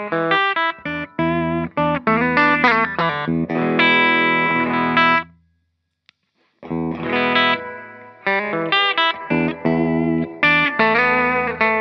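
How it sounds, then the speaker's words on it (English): A 1959 reissue ES335 electric guitar, played straight into an amp, sounds clean plucked chords and notes in an uneven rhythm, with a short silent gap midway before the playing resumes. "So the guitar straight into the amp sounds like this."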